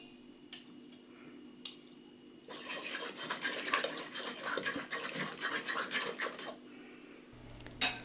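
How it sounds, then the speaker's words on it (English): Banana bread batter with almond butter is stirred in a bowl. A couple of light utensil taps come first, then about four seconds of steady scraping and stirring, ending with a faint clink. "Be sure to mix everything together because nut butters tend to separate."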